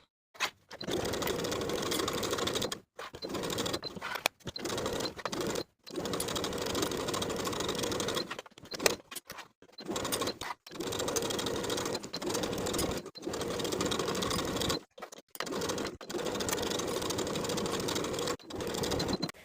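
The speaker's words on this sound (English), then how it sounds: "Sew the facing to the top edges of the jumper with 1/2 inch seam allowance all the way around." Stitching a facing onto a jumper, a sewing machine runs in many short bursts broken by brief stops, close and steady, with no talk.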